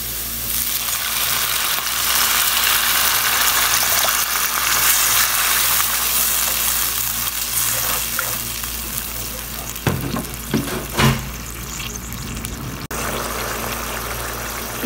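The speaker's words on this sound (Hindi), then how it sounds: "इसमें ऐड करेंगे 1 कप पानी।" Chicken tikka masala sizzles in a pan as a cup of water is poured in, a loud frying hiss with some stirring and scraping, then brief clatters and a sharp knock near the end.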